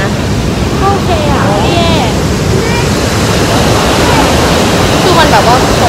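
Rhine Falls waterfall in Switzerland roars as a steady, loud broadband rush throughout, with crowd chatter and voices faintly mixed into the constant water noise.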